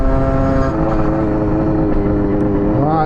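Tuned scooter engine running steadily while ridden, a loud, buzzy two-stroke drone with a constant rhythmic hum and slight rise and fall in pitch, close up, with no talking.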